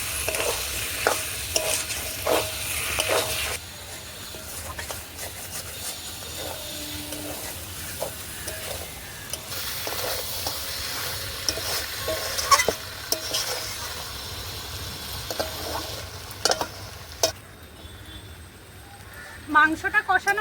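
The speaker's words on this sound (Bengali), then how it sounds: "ভালো করে কষিয়ে নেব আবার মশলার সঙ্গে।" Goat meat is sautéed with spices in a pan in a rural kitchen, with repeated scraping stirs and taps of a spatula over a low sizzle, the strokes coming in uneven bursts close up.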